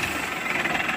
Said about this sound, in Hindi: आवाज सुनवा दो ट्रैक्टर की।